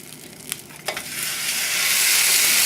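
Beef sizzles and fries in an oiled pan for a beef and bean cholent stew, with a couple of sharp stirring clicks early on and then a steady, building hiss that stays close and continuous.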